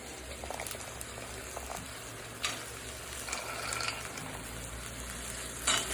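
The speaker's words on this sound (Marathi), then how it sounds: "आता टाकणार आहे वाटाणे" Fresh green peas cooking in a hot pan with potato, a steady close sizzle and bubbling with occasional stirring scrapes and clinks.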